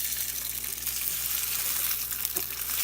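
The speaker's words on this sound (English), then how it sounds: "I'm going to go ahead and add my second set of sausage here" Sausage sears in a clean cast iron skillet, giving a steady close hiss with a low hum beneath and a faint crackle throughout.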